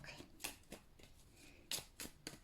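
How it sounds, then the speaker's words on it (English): A deck of card-reading cards being shuffled by hand: soft riffling bursts come in an uneven rhythm, close by and fairly quiet, with no talking. "so I have shuffled these cards, honestly"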